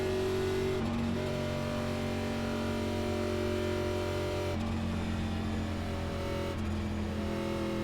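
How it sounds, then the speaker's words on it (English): Race cars speeding past on new tires at Nashville Superspeedway in the iRacing NASCAR Xfinity game, a loud continuous engine roar with shifting pitch as cars pass, steady throughout without talk. "Nine cars flying though on new tires."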